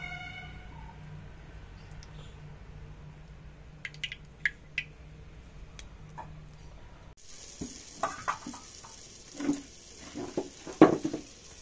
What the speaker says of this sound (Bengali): হাঁড়ির ভিতরে মশলা কষাচ্ছি, মশলার কালার দেখেন